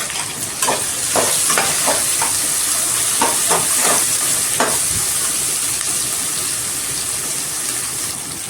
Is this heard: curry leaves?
yes